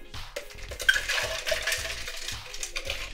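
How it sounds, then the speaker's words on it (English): Ice cubes tumbling into a metal cocktail shaker tin, a series of close, bright clinks and rattles in quick bursts. "And next we're gonna add our ice."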